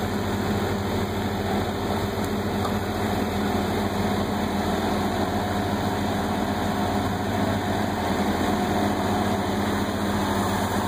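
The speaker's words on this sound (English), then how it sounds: "all with that Vermeer mini skid steer" A Vermeer S800TX mini skid steer's engine runs at a steady idle while silt is cleared from under a bridge, a continuous droning hum with no breaks or speech.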